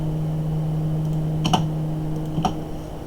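Code being typed on a computer keyboard: a few sparse, light key clicks over a steady electrical hum, with no voices.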